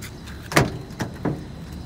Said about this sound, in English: Tailgate has the easy down, you know, the DZ tailgate assist on there.